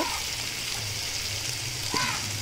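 Chopped tomatoes for misal frying in a pan over a wood-fired chulha, a soft continuous sizzle with light crackle and a brief clink near the end.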